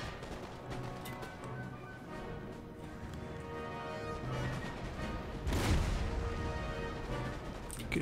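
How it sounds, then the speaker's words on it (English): Canister shot artillery fires in Empire: Total War amid a constant din of battle, with a louder burst of cannon fire near the middle followed by continuing rumble. "Good rounds of canister shot going off."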